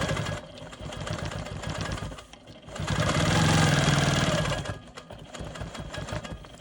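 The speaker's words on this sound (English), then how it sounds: "Now I can proceed with my straight line quilting." A Quilt Maker Pro 20 long-arm quilting machine stitches straight parallel lines across a quilt block, a close, rapid mechanical hum with rhythmic needle clatter that speeds into a louder sustained run mid-clip, then settles back.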